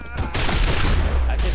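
Rapid bursts of gunfire in the video game The Matrix: Path of Neo, loud overlapping shots in a dense fusillade, with a voice speaking partly over the shooting.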